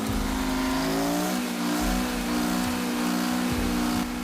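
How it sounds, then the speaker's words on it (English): A small Detroit Diesel 2-71 two-stroke engine runs with a shrill, screaming tone, a steady loud drone of layered harmonics with slight rises and dips in pitch, heard close with no talk. "Detroit Diesel 271, 2-71. Small but shrill, screaming Jimmy in the truest sense."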